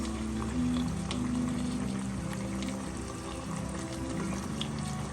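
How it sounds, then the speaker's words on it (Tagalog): Water runs and pours steadily over canned mushroom pieces and stems being rinsed, a soft continuous splashing flow under a low hum, with no talking. "Kaya kailangan natin alisin at natin hugasan ng tubig."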